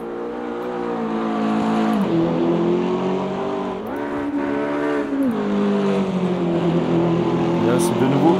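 A Ferrari race car engine in Automobilista 2 on a wet track, its steady harmonic drone rising and dipping through several gear changes, with someone speaking over it.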